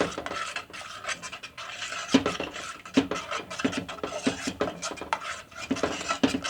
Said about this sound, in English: While I'm stirring, as you notice, it's getting thicker.